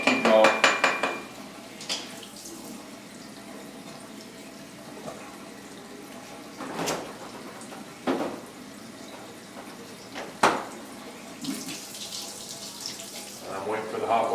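Water running from a kitchen tap in short spells while waiting for hot water, with splashing hiss and the clink of dishes in a sink between quieter stretches.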